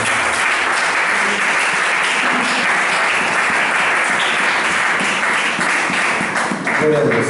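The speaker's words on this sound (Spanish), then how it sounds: "Denle un aplauso al Señor en esta noche." A Pentecostal evangelical church congregation breaks into loud, steady applause for several seconds, dense clapping filling the room with some voices mixed in.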